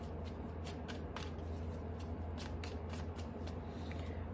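Tarot cards being shuffled by hand during a Sagittarius reading, a close, continuous riffling patter of card edges with rhythmic flicks and soft slaps, quiet and without talk.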